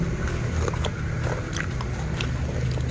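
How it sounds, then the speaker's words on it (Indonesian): Crunchy fried spider-nest snack (sarang laba-laba) bitten and chewed close to the mic, a dense run of crackly crunches with no talk. "Ini sangat kriuk sekali ya, dan kita makan sangat kriuk."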